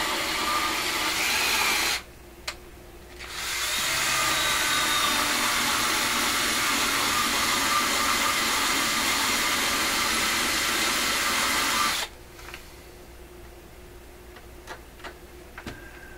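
A power drill whirs steadily for several seconds, stops briefly, then runs again for a long stretch before cutting off, leaving faint ticking and clatter.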